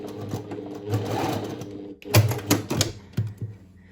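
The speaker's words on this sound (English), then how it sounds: "And I'm going to sew across this. And I'm going to back stitch a couple of times." A sewing machine stitches across a seam with a couple of back stitches: a steady whirring run, a brief pause, then several short bursts of rapid stitching close by.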